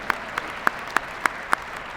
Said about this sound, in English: That's okay, you can clap.